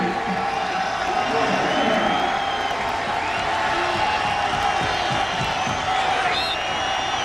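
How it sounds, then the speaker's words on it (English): Dense, steady roar of a college football stadium crowd at a West Virginia Mountaineers versus UConn Huskies game, a continuous wash of voices and cheering with scattered whoops and claps, loud throughout with no single voice standing out. "Hopefully they'll be able to hear the signals over the crowd noise."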